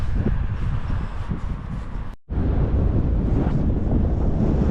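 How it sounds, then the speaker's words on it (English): Strong cold wind at the seaside at Southport buffets the microphone with a constant low roar and rumble, broken by a brief dropout before the gusting resumes. "It's cold and windy, but we're here."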